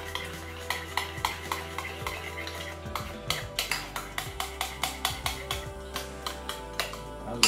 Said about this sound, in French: Donc vous mélangez bien la crème fraîche et la moutarde